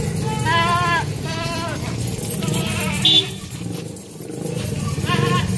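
A black goat on a dairy farm lets out several wavering bleats, mixed with people talking and general farmyard noise.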